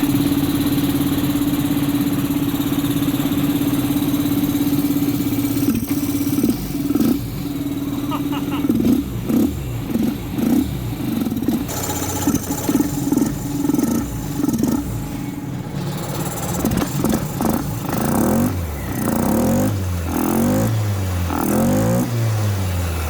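A Vespa GTS 300 scooter fitted with a K&N intake and a REMUS custom exhaust idles close by with a steady low hum, then blips and revs in short bursts while a person talks over it.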